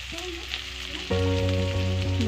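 Onions sizzle in a little oil for a home curry, a close, steady frying hiss, joined by a louder tonal hum partway through.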